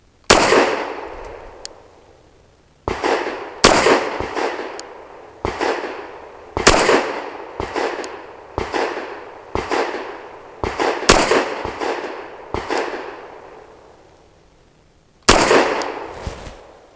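Fusion Firearms Ermox XP Pro pistol fired with basic range ammo at 7 yards: a string of about a dozen sharp, loud shots in irregular pairs and singles, each ringing out briefly, with a pause before a final shot.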